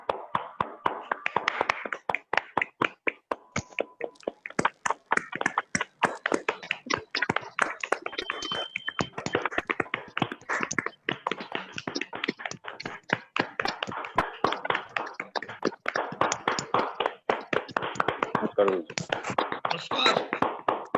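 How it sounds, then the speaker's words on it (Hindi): A crowd claps steadily for about twenty seconds to welcome a speaker named Anil, dense rapid hand claps that stay loud and even before thinning slightly toward the end. "एक जोरदार तालियों के साथ अनिल सर आपका स्वागत करते हैं"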